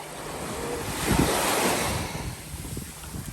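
Ocean surf breaking along Englewood Beach, a steady broadband wash that swells into a louder crash around the middle and then settles, with wind buffeting the microphone throughout.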